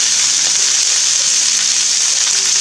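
Vegetables for ciambotta simmer down in a pan, giving a steady, loud, close sizzle that hisses evenly throughout with no voices.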